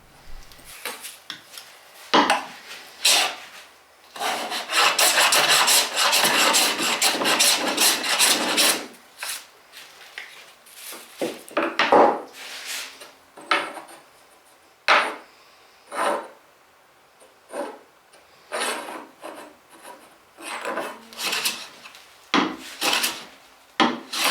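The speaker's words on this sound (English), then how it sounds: "Here I'm using a jack plane with a quite heavily cambered blade to quickly scrub off all the high spots and get myself a pretty flat board" A jack plane with a heavily cambered blade scrubs across an oak board in repeated rasping strokes: a long continuous stretch of shaving, then a series of shorter separate passes with quiet gaps, close and clear, with no talking.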